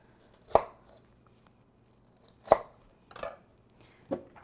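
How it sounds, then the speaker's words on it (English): A knife cuts the core out of a watermelon in four distinct chops on a board, spaced about two seconds apart at first, each a sharp, close thunk of blade through rind and flesh. "I'm going to make 2 angled slices. Go in there and get rid of that core."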